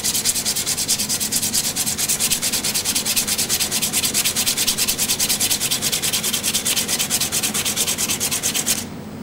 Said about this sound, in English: lightly sand back and forth while turning the lathe by hand